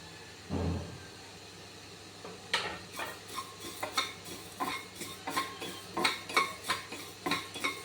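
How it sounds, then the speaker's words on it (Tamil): Coriander seeds, fenugreek, pepper and cumin being dry roasted in an empty kadai: a steady run of light metallic scrapes and taps from stirring, with a soft dry rattle of seeds, close and quiet, without speech. "இப்போ வரமல்லி, வெந்தயம், இந்த மிளகு ஜீரகத்தை நம்ம வெறும் கடாயில் வறுத்துக்கலாம்."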